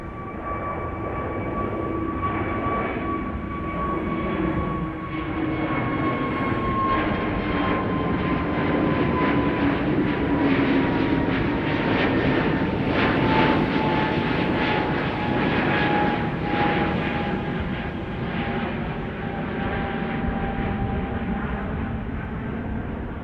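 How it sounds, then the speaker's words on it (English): A KM Malta airliner climbs away from runway 24 at Amsterdam Schiphol Airport, its loud, steady jet roar filling the air with a slowly shifting engine whine as it passes overhead. "And another departure from runway 24. Already airborne."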